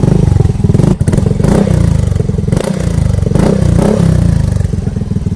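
A motorcycle fitted with a Yoshimura R77 exhaust with its silencer installed idles and revs close up, a loud throbbing engine note with rising blips throughout.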